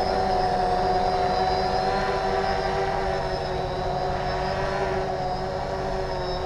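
A small tricopter with a wooden frame hovers and holds position, its propellers spinning in a steady, continuous buzzing drone with a strong tonal whine that runs unbroken and close throughout.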